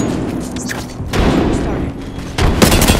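A frag grenade explodes in the video game Apex Legends, with loud booming bursts and gunfire-like cracks layered over ongoing game noise, close and heavy.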